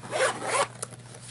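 A zipper runs along a burgundy leather pen case, two close raspy pulls followed by a small click, near and clear with no talk.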